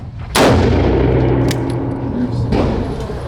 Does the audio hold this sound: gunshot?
yes